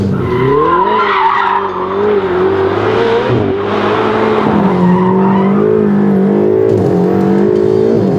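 Ferrari 488 GTB driven hard on a race track, tires squealing loudly in long wavering screeches as the engine revs rise and fall, close and sustained with no voices.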